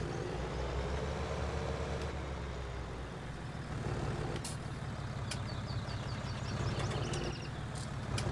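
Tractor reversing in Farming Simulator 19, a steady loud engine drone with a hiss of air and faint repeating high beeps, no talk over it.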